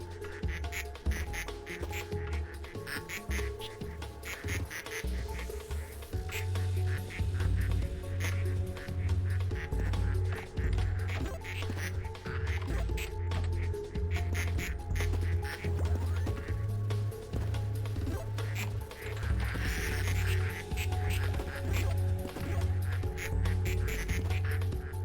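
Rubber ducks in the factory builder game Project PITT quack continuously in a dense, overlapping chorus, many squeaky quacks layered over a steady droning hum for the whole stretch, loud and busy with no talking.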